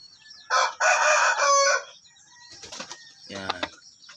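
A Belgian Shamo x Shamo Aseel rooster crows once, loud and close, with a drawn-out call, followed by wing flapping and a few low clucks.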